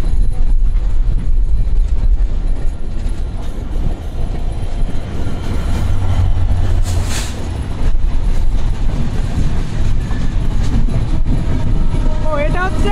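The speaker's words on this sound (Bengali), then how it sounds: "যমুনা সেতুতে ওঠার আগে আরো একটা ট্রেন ওই সাইড থেকে আসতেছে" A Rajshahi Silk City express train passes near the Jamuna Bridge, a steady loud rumble of wheels and carriages running on throughout, with a brief squeal partway and voices faintly under the noise.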